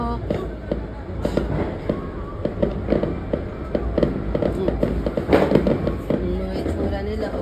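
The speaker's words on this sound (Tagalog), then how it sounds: "Natatakot po kami sa putok." New Year fireworks and firecrackers pop and crackle outside in a dense, irregular string of sharp bangs, some louder and nearer, with people talking over the noise.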